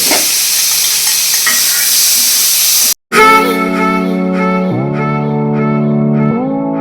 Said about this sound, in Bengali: তেলের মধ্যে একটু জিরে ফোড়ন দিয়ে অল্প একটু জিরে ফোড়ন জিরেটা একটু লাল হয়ে এসছে